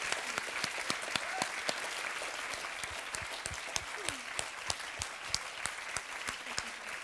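Audience applause at the closing ceremony of the Tous En Short film festival, a steady, even wash of clapping with sharper individual claps standing out, fairly distant and holding at a constant level throughout.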